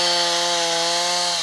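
A saw cuts down a spruce chosen as a town Christmas tree in a forest near Viesīte, Latvia, its engine holding a loud, steady buzzing whine throughout, with no talk.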